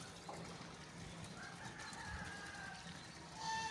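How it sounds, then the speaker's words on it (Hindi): Hens, chicks and roosters, including fancy and Aseel breeds, on a small farm, clucking faintly and at a distance over a low steady background hum. "फार्म है जिसके अंदर मुर्गियाँ भी हैं, छोटे देख रहे हैं आप, चूज़े भी हैं और साथ में मुर्गे भी हैं"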